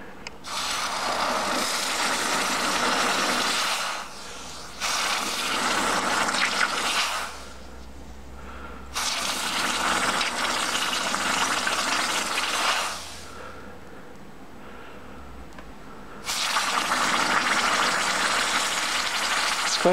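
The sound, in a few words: hot forged steel part quenched in water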